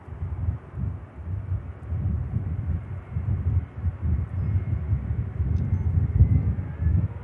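A departing airliner at Manchester Airport gives a steady, loud low rumble of jet engine roar that swells and holds throughout, blended with wind buffeting on the microphone.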